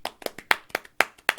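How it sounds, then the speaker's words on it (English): Podcast hosts clap in a loose, uneven burst of about eight sharp hand claps over a second and a half, close and fairly loud, with no talking. "Woo! Yay! everybody clap."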